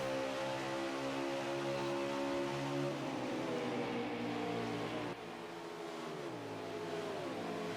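Stock race cars roar around a dirt track during Friday Night Thunder Cup, steady loud engine drone with pitch shifts as cars accelerate and pass, several engines overlapping.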